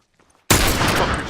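Hunting rifle fire in The Last of Us Remastered bursts in suddenly after near silence, one loud blast followed by a sustained roaring, crackling wash of gunfire that stays dense and close.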